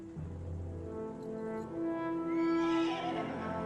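A horse whinnies at length in the video game Kingdom Come: Deliverance II, a rising, wavering call over a steady hum of background music, fairly close and clear.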